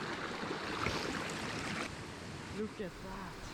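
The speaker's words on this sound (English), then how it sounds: "Somewhere in between, I found this small waterfall." A small waterfall rushes in a steady broadband wash outdoors in a dark winter landscape, with someone speaking briefly over the continuous flow.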